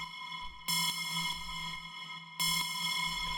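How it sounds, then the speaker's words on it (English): A bell-like dark techno synth sounds in two bright, sustained hits, each ringing on with a mid-side eighth-note echo repeating under it, alone and without any voice. "Then we have this echo doing eighth notes."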